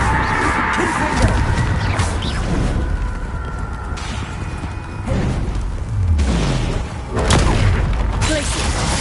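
Fiery blasting-spell explosions in Hogwarts Legacy, loud booms and crashing impacts recurring through a chaotic in-game fight, with effects layered densely and no clear pause.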